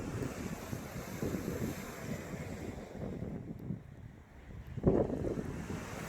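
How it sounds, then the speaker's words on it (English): Strong wind buffets a camera microphone on a sea fishing trip, rumbling in continuous gusts with a sharper blast near the end. "Trying to keep the camera out of the wind."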